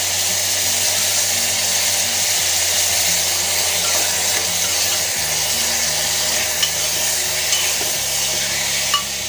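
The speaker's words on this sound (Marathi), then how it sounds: "आता आपण हे हलवून घेऊया" Spiced masale bhat rice being stirred in a pot, with a constant sizzling fry under a steady low mechanical hum and a few faint clicks of the spoon near the end; no talking.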